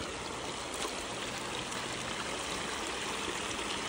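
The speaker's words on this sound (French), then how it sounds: "Ou alors j'hésite dans la petite cascade là." A small waterfall tumbles into a wild stream at a gold-panning spot, giving a steady, close, unbroken rushing hiss that stays even throughout with no voices.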